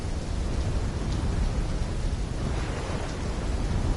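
Heavy storm rain pours steadily in a Call of Duty game scene, a dense, loud wash of noise with low rumbling thunder underneath throughout, no voices.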